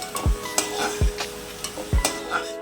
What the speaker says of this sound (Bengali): সেখানে ছোটো ছোটো আলু কেটে এখন ভেজে নিচ্ছি